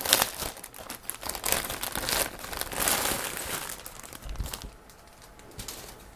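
A plastic bag from a 1/48 scale Eduard model kit crinkles and rustles in close, irregular bursts, loudest early on and fading toward the end.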